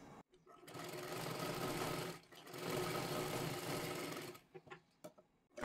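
A sewing machine stitches a princess-cut blouse in two long continuous runs, close and steady, with a short pause between them and a few faint clicks and handling sounds at the end.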